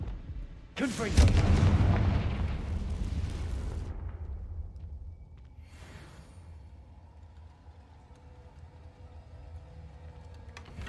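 A single Confringo fire spell blast in the video game Hogwarts Legacy, a loud burst that swells into a roaring, crackling rumble lasting a few seconds, then fades and leaves quiet ambience with a faint later thump.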